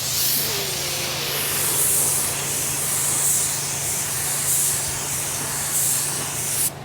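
Spray gun laying down a coat of primer on a car panel, a steady close hiss running unbroken for nearly the whole stretch with only slight swells, then cutting off at the very end.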